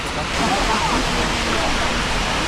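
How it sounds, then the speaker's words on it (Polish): Water from the Neptune Fountain in Vienna, with geysers and a waterfall-like cascade, splashes in a constant loud rushing roar up close. A voice is partly heard under it. "Jesteśmy przy fontannie Boga Neptuna."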